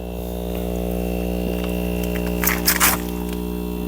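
An air pump for an outdoor hydroponic garden runs with a steady low electric hum and buzz, close and continuous, with a brief rustling handling noise near the end.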